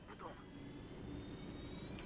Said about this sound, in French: On va donc prendre cet hélicoptère.